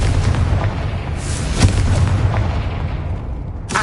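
Confringo fire spell blasts in Hogwarts Legacy, a loud booming burst with a sharp crack near the middle over a continuous rumbling roar, no voices.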